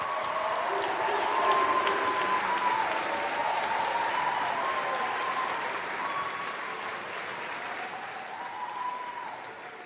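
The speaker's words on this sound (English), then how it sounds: "big round of applause, everyone." School audience in a hall at Brentwood School House Music 2021 applauding a student music performance, steady clapping with a few cheers, swelling early then slowly tapering off.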